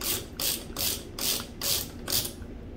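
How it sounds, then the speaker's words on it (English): A Strike Industries Oppressor blast shield is ratcheted down onto a rifle muzzle, giving six loud, evenly spaced bursts of clicking ratchet pawl, each about a third of a second long, close up with no talk. "So you put that guy on, ratchet it down."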